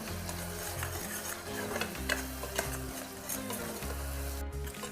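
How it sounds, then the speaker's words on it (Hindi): Tomato masala with onion and spices stirred in a pan for rajma, a steady close sizzle with repeated scraping strokes throughout, no voices. "इसे हम अच्छी तरह से मिला लेते हैं जिससे कि टमाटर भी अच्छी तरह से"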